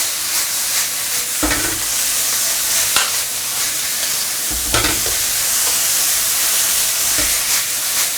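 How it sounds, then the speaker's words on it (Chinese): Bell pepper strips stir-fried over high heat in a wok with oyster sauce, sugar and salt: a loud, constant hissing sizzle broken by several scraping tossing strokes. "甜椒丝就一起下锅了，就大火翻炒它"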